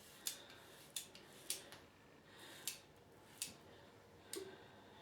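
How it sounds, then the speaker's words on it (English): The pivoting head of a Leaf razor clicks as it moves while shaving: crisp, isolated ticks arriving about once a second, close and fairly quiet against a soft background. "that clicking noise is because the head moves"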